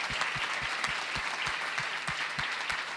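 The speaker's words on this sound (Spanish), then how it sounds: "un aplauso" Steady applause from a conference audience at a congress, dense continuous clapping with a rhythmic low thump underneath, moderately loud and without speech.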